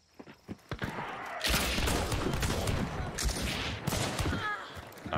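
Shotgun slug fire in the game Hunt: Showdown booms and crackles over a dense wash of in-game noise and reverb. Several loud reports follow one another across the few seconds, with scattered footsteps earlier on.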